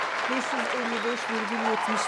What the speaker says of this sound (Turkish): Gelsin bakalım alkışlarla.